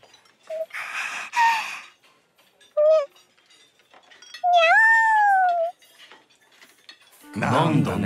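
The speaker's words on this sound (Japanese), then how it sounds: "なんだ猫か。" A cat meows a few times, short high mews and one longer drawn-out cry, close and clear, with gasps, small breathy noises and brief voices between them in a quiet setting.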